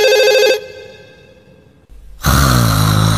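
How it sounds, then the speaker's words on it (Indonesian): A telephone rings in a Doraemon cartoon, one loud electronic ring burst, a pause with a soft breath, then a second loud ring. "Ada telepon dari Suneo."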